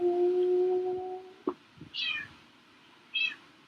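A pet house cat meows two or three times, short, rising and falling calls at moderate distance, after a steady tonal hum fades out, in a quiet room with no talk.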